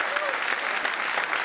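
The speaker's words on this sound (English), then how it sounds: "Give him a big applause." Audience applause at the live unveiling of the Ocean Cleanup prototype, a dense, continuous burst of clapping from a crowd, fairly close and even throughout.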